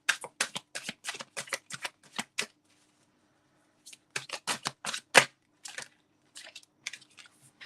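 Playing cards riffled and shuffled at a paranormal and spiritual reading session: quick crisp flutters in two bursts split by a short silent pause, close and fairly clear, followed by a few fainter taps.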